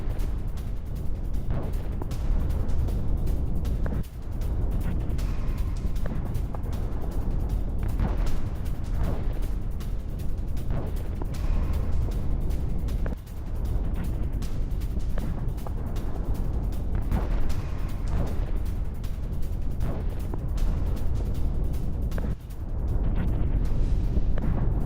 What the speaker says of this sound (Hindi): पहले भीषण विस्फोट होता है, फिर भीषण आग लगी।